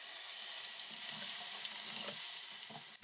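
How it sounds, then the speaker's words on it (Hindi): Onion paste fries in hot oil with a steady, fine sizzle and faint bubbling, and a soft stirring clink near the end. "हमने उसी ऑयल में ये प्याज भी ऐड कर दिए।"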